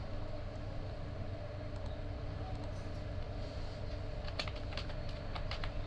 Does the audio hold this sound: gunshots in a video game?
no